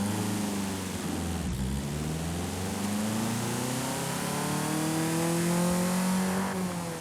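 The engine of a Nissan S-Cargo of just over 70 horsepower in Forza Horizon 5 revs loudly and steadily, climbing through gears with rising harmonic whine, continuous throughout with no talking.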